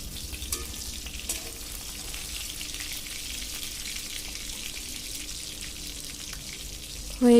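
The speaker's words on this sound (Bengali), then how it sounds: "হয়ে গেছে ইলিশ ভাজি করা, এবার আমি উঠিয়ে নিব।" Hilsa fish pieces fry in plenty of oil in a kadai, a continuous close, even sizzle with a few faint pops, ending with a sudden louder knock.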